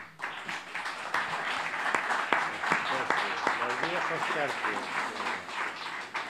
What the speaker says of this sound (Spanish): para ellos pido un fuerte aplauso